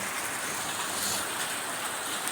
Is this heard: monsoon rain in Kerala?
yes